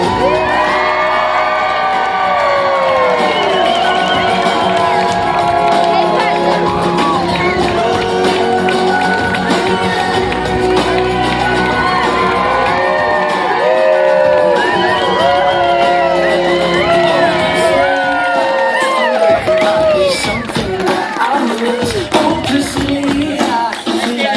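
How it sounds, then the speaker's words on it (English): Wedding reception guests greet the newlyweds with a sustained roar of cheering, whooping and shouting mixed with clapping, loud and continuous for over twenty seconds before easing slightly at the end. "please help me give the biggest round of applause you have"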